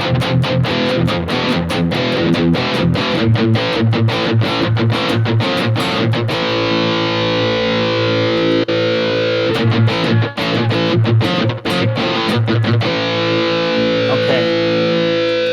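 Electric guitar run through a Super Overdrive pedal simulation on a Hotone Ampero 2 Stage, playing loud, gritty chugging chords in rapid repeated strikes, then ringing sustained notes before more choppy riffing.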